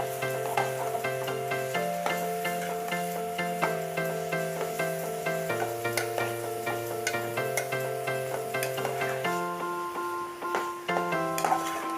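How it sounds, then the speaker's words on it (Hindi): Minced meat (keema) and onion fry in a pan while being stirred, a steady sizzle with scattered spatula clicks running under prominent melodic background music. "अब मैं इसके अंदर ये 250 ग्राम कीमा ऐड कर रही हूँ। अच्छे से प्याज और कीमे को मिक्स कर लेंगे।"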